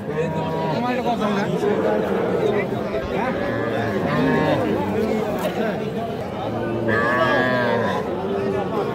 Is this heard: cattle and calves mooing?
yes